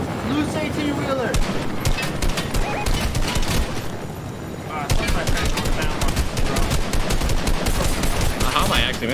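Fortnite gunfire rattles in dense rapid bursts, with loud close automatic fire broken by a short lull before another heavy volley. Players talk over the shooting.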